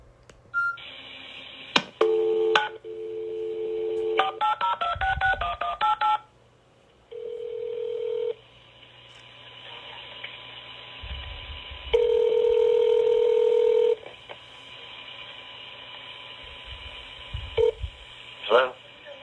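Phone tones from a 911 call: a quick run of DTMF dialing beeps, then longer steady tones and line signals, with quiet stretches and brief low voice sounds between them.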